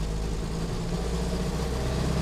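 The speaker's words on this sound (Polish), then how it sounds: "wrzucamy 3 i jedziemy sobie z trójeczki" Soviet UAZ 452 van, fitted with a GAZ-21 engine, cruising on a road in third gear: a steady, loud low engine drone and rumble throughout, with no voices over it.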